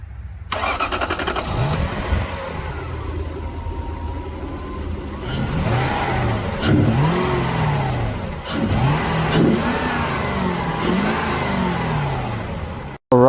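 A 2001 Lexus GS430 with a 4.3 liter V8 cranks and fires up, then idles and is blipped through several rising and falling revs, loud and close throughout.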